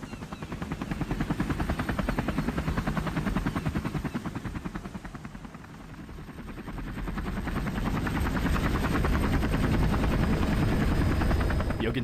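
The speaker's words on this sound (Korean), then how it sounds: "헬기가 되게 낮게 난다. 무슨 헬기지? 주황색인 거 보니까 소방 헬기 같은데." A low-flying fire helicopter thunders steadily overhead, its rotor chop loud and continuous, dipping briefly midway before swelling again.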